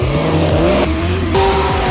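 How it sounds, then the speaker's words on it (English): Cars drag racing down a runway built on a ranch, engines loud and close with rising and falling revs and tire squeal, a continuous roar throughout. "People are just drag racing their stuff"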